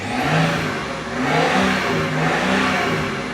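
A 20-year-old BMW E46 engine revs up and down in repeated surges, loud and close, with a rough mid-range growl.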